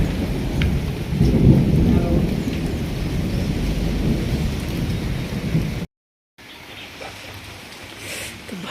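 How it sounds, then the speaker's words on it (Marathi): Thunderstorm at the start of the rains: a deep rolling thunder rumble over steady heavy rain, loud and close, with a short silent break before lighter rain patter resumes. "ढगांचा गडबडाट आणि पावसाला सुरुवात"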